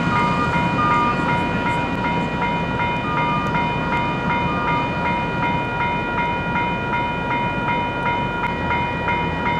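A maintenance of way train passing near Leaside: a continuous loud rumble of rolling wheels and machinery with steady tonal whining and faint rhythmic clacks throughout.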